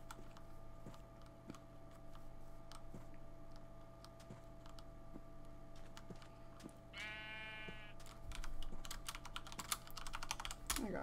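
Sheep bleat in Minecraft, one clear harmonic bleat in the middle of steady game background with rapid keyboard typing and clicking throughout, growing busier toward the end.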